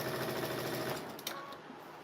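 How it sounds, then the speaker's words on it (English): A Baby Lock sewing machine runs steadily, a quiet continuous mechanical hum with fast rhythmic stitching texture and a few faint clicks near the end, no talking. "now I'm sewing it on the baby lock."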